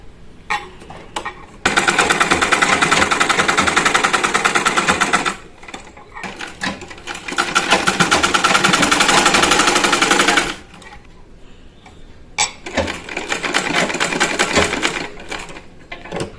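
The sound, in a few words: sewing machine straight-stitching thread piping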